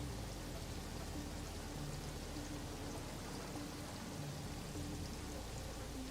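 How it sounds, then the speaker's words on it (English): Steady rain pours down in the video game Satisfactory, a dense even hiss at constant level with no voices. "I love the rain though"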